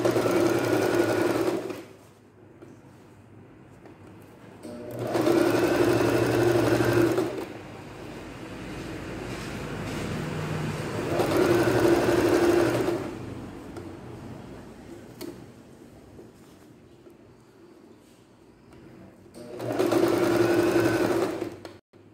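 A domestic sewing machine stitches a hem on a thick-fabric blouse in four separate bursts of steady, rapid mechanical whirring, each lasting a couple of seconds, with quiet pauses and faint handling sounds between them.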